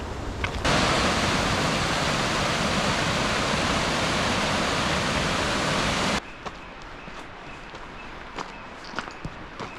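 A little mountain river on a hike to Valscura Lake in Piedmont, Italy: loud, close, steady rushing water for several seconds, then cutting to quieter surroundings with scattered footsteps.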